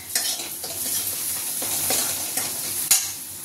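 Fish curry sizzling in a pan in a home kitchen, a steady close hiss of frying with occasional stirring scrapes and light utensil clinks, no talking.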